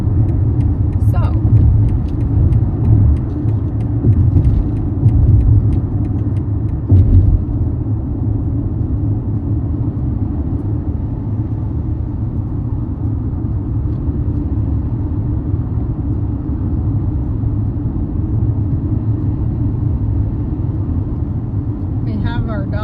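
A car rolling through slow Seattle traffic gives a steady, deep cabin rumble, constant and fairly loud, with a few faint clicks early on.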